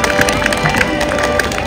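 Crowd at a Nepali stage show applauding and cheering a tabla player, loud dense clapping with shouts and whistles throughout the short burst, close and lively.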